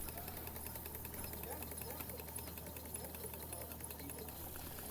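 A model steeple engine built from bar stock ticks over at a model engineering expo, giving a quick, regular mechanical patter of light knocks, quiet and continuous beneath hall ambience with faint voices.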